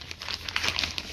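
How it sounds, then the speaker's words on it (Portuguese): A large plastic sheet is handled while fitting a Volkswagen Beetle's leather interior, giving close, crisp crinkling and crackling in quick irregular bursts. "Cortei o plásticozão, bonitão, olha lá, fatia eles."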